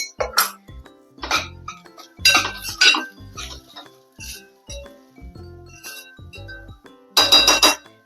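Salt goes into rice in a pan, with light utensil and dish clinks and scrapes coming in short irregular bursts, close and fairly crisp, no talking.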